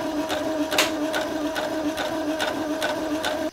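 A sewing machine runs steadily, stitching a sandwich of quilt fabric layers with the presser foot aligned to the fabric edges, a continuous close mechanical whir with faint rhythmic needle pulses throughout.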